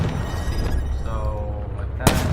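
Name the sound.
shotgun firing in the video game Call of Duty Blackout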